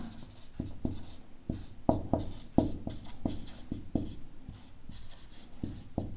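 A pen scratches across paper in quick, uneven strokes while a maths problem is worked out by hand, close and fairly quiet, with short pauses between bursts of writing.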